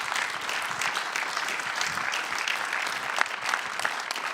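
A room full of people gives a group a round of applause, steady, even clapping from many hands that holds at a moderate level throughout, with a few sharper claps standing out.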